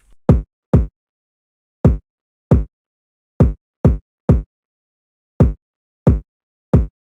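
A punchy kick drum hits ten times alone in a loose, syncopated pattern, each thump short and deep with silence between.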